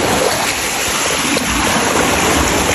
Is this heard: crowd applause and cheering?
no